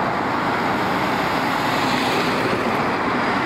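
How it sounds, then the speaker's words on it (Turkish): Steady, dense roar of heavy road traffic where a side road feeds in, with various vehicles passing continuously at a loud level and no pauses. "yan yoldan çıkan çeşitli araçlar trafiği oldukça yoğun ediyor"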